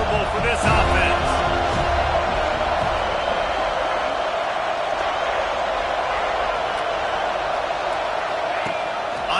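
A college football stadium crowd roars in a sustained, dense wash of noise against the offense during a Buckeyes game, with scattered whoops and thumps, while a commentator talks over it.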